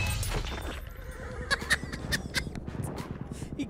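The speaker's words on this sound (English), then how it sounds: "Killed me and the horse still ran him over." Horse in the Battlefield 1 first-person shooter game, whinnying in several short bursts over a muffled rumble of game noise, fairly faint.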